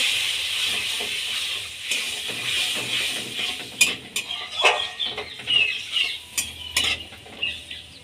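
Chili, turmeric and cumin powder with ginger paste fry with a little water for ghugni, giving a steady close sizzle under rhythmic spoon stirring and scraping clinks against the pan, with no talking.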